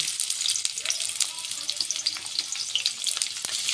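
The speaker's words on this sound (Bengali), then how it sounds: "এবার দিয়ে দেবো পেঁয়াজ হালকা করে ভেজে নেবো পেঁয়াজটাকে" Chopped onion frying lightly in white cooking oil for an egg chowmein, a steady close crackling sizzle with occasional stirring scrapes, no talking.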